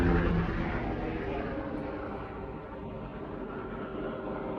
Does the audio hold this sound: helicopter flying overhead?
yes